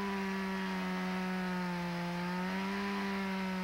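A Stihl MS-170 chainsaw runs with a steady, buzzing engine drone at a nearly constant pitch that dips slightly partway through. It is heard alone at even loudness.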